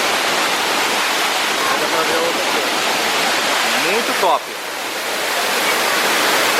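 A forest waterfall roars in a steady, loud, broadband rush throughout, with someone briefly speaking over the cascading water partway through.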